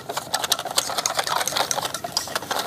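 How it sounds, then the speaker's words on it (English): Whisk beating a batter of flour in a bowl, a fast, continuous run of light rattling clicks and scrapes, close and steady with no voices. "And then whisk it together"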